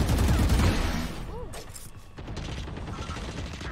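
A spray of gunfire bursts loudly in the Valorant shooter, a dense rapid volley up front that thins into scattered shots and mechanical clatter, with a voice talking over it.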